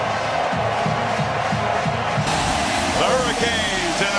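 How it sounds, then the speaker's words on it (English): A packed stadium crowd roars and cheers as an American college football team, the Hurricanes, makes its entrance; the dense, loud cheering swells steadily while voices talk over it. "I don't think you can hear anything but cheering."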